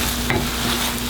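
Spoon stirring a pan of frying vegan food just seasoned with smoked paprika, onion powder and salt, a steady close sizzle with a soft scrape partway through.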